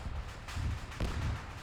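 Artillery barrage in the video game Arma 3: a few dull, rumbling thuds, heard at a distance under faint background noise.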